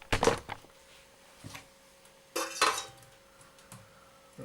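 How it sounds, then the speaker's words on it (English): Apples with their juices scraped and spooned into a metal roasting tin, a few clattering utensil-on-metal knocks and clinks in short bursts with quiet gaps between, close by. "transfer it, apple juices and all, to a cooking tin or a roasting tin"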